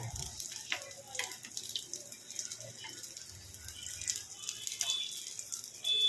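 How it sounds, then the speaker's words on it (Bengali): Kolkata-style macher chop (fish chop) fries in a pan with a soft, uneven crackle, occasional faint clinks and a slight watery hiss, all at a fairly low level. "সুন্দর করে ভেজে নিতে হবে।"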